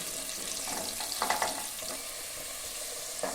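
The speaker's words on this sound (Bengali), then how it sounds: "আমি এইভাবে এগুলোকে আলুগুলো পুরো লাল লাল করে ভেজে নেব।" Steady oil sizzle of potatoes frying in a wok until browned for mutton curry, with occasional scrapes and stirring clatters over the continuous hiss.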